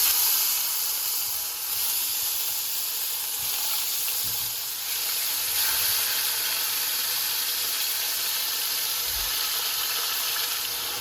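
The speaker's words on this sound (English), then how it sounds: "So my oil is hot and I'm gonna put the spare ribs to sear" Spare ribs sear in hot oil in a pot, making a loud, continuous hiss and sizzle that stays close and even for the whole stretch, with faint low bumps underneath. No one speaks.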